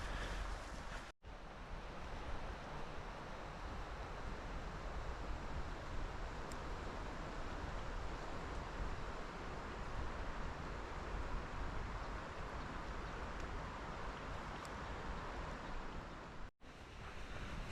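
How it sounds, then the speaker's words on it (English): A fast-flowing river beside a walking trail gives off a steady, loud rush of water that continues without a break for the whole stretch, with no talking. "So this river that we're walking beside is it moves fast."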